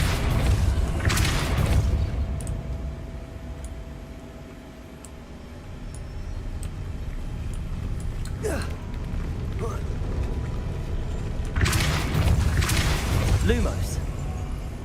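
Depulso force spell blasts in Hogwarts Legacy: a broad whooshing boom near the start, another brief burst mid-clip and a heavier blast later, over a steady rumbling game background.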